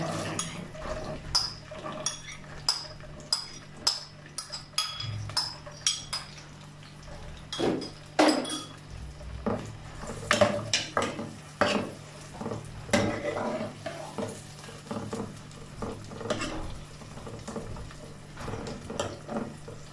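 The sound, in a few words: onions frying in hot oil, stirred with a spoon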